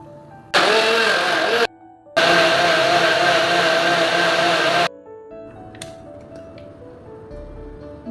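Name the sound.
mixer grinder blending juice with water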